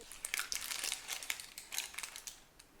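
Parchment paper crinkles and rustles close up as pie weights are lifted out of a blind-baked pastry crust, a quiet run of irregular crackling bursts with no talk.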